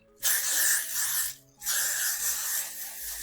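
Two close, hissing bursts of Got to Be Glued Blasting Free hair spray, the first long, then a short gap before a second longer spray.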